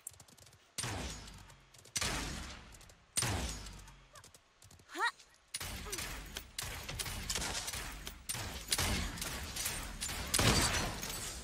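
Gunfire in the video game Realm Royale: a series of sharp, loud shots at irregular intervals, building into denser rapid firing toward the end, with a voice speaking occasionally over it.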